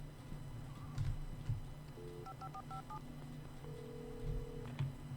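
A telephone in the video game Alan Wake is dialed. A short run of clean electronic keypad tones plays at moderate volume over a low, steady background hum, followed by one longer tone.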